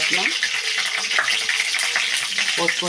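Mustard seeds and urad dal sizzle and crackle in two spoons of hot oil in a pan for tindora tomato chutney. The frying is steady and close throughout, with brief voice fragments over it.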